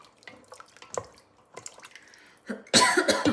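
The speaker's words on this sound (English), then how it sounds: "Sorry, the chili is making me cough." Light drips and clinks from stirring soup, then a sudden burst of close, harsh coughing brought on by chili near the end.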